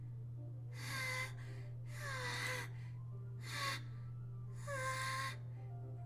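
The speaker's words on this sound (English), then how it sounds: "It sounds like breathing. A sharp inhale, like someone is sucking the air through their teeth." Four sharp breathy gasps, like air sucked hard through clenched teeth, spaced about a second apart and each lasting under a second, from the video game Doki Doki Literature Club over a steady low hum.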